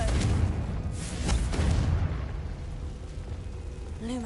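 The Confringo blasting spell in the video game Hogwarts Legacy, a deep booming explosion with rolling low rumble that swells twice and fades, loud and close, a short tonal chime at the end.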